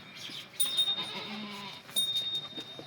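A goat on a goat farm gives a few short nasal bleats, fairly close, over quiet background noise with no talking.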